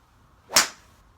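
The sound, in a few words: golf 3 wood striking ball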